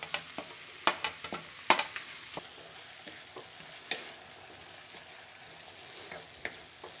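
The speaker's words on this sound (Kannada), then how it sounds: "ಇವಾಗ ಟೊಮೆಟೊ ಆಡ್ ಮಾಡ್ಕೊಳ್ಳೋಣ।" Onions frying in a pan for a Bangalore-style ladies finger (okra) gojju as chopped tomato goes in: a quiet, steady low sizzle broken by several sharp spoon scrapes and clinks against the pan, strongest early on.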